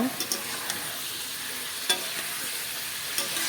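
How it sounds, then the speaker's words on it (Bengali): Cauliflower frying in oil in a pan for a cauliflower, potato and tilapia dish gives a steady, close sizzle with a few light clicks of stirring near the start and one sharper tap midway. "দেখো এখানে ফুলকপি ভাজা বসানো হয়ে গেল"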